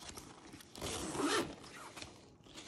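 Nylon zipper on a JanSport Right Pack backpack pulled shut, a quick close-up zipping rasp lasting about half a second, fairly quiet.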